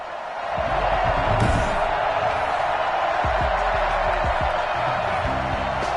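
Stadium crowd noise from the Madden 21 football video game on PS5, a Carolina Panthers versus Green Bay Packers matchup: a steady, dense roar of distant fans with a few faint thumps, continuous and fairly loud with no clear talk.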